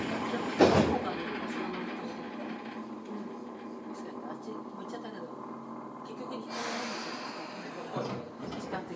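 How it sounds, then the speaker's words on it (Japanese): Doors on a Tobu Railway 9050 series train thud shut between Shinrin-koen and Higashi-Matsuyama, followed by the steady hum of the car interior and a second thump several seconds later. A voice speaks faintly over the hum. "ドアが閉まります。"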